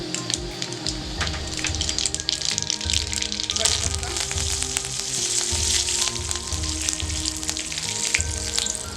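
Mustard seeds crackle and sizzle in a spoonful of hot oil, tempering for a raw mango kadhi; a dense, steady frying hiss with small pops runs close and loud throughout, with no talking.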